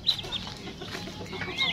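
High, thin peeping from a duckling repeats in quick chirps, fairly close, over a soft background of clucking.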